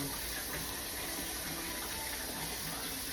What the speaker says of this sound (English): while my rice is rinsing. You want to wash your rice.